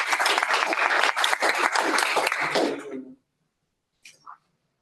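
Applause for an award recipient at an engineering and management conference, a strong round of crowd clapping that stops abruptly after about three seconds, followed by a short quiet gap and a brief cough or throat clear.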